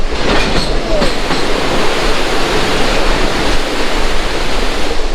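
Huge volumes of water rush through the Farakka Barrage on the river in India, producing a loud, dense, unbroken roar that stays constant from start to finish.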